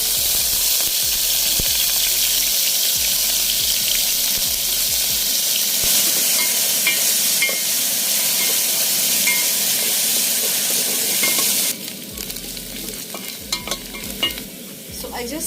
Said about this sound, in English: We're using coconut oil just to enhance the flavors. And in goes our green onion.